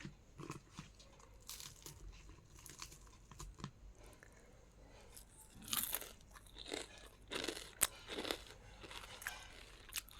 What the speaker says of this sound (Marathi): बघा आवाज किती कुरकुरीत येत आहे।